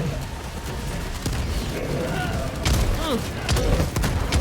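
Explosions and gunfire from the video game Helldivers 2 crash through a dense battle mix, with loud booming bursts repeating near the end over constant rumble.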